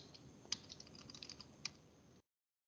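Typing on a computer keyboard at a command prompt, quick soft key clicks with a couple of sharper taps, quiet and close, then silence.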